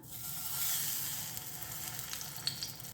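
Stuffed plantains sizzle in hot ghee in a pan, a soft and fairly quiet hiss with a few light pops and crackles near the end, heard alone for a few seconds.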